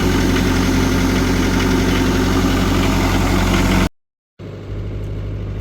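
Land Rover Fourtrak engine running loud and close on a freezing morning with the hand choke set, a steady rough idle with deep low rumble that cuts out abruptly, then resumes idling after a brief silence.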